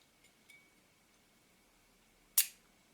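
A Werra 1 camera with a Synchro Compur shutter fires once with a sharp, close click near the end, after a couple of faint small ticks in a quiet room.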